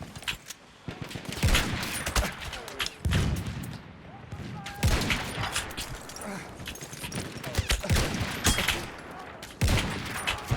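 Rapid gunfire from the video game Battlefield, bursts of shots and fusillades crowding each other with brief lulls between, loud and close throughout.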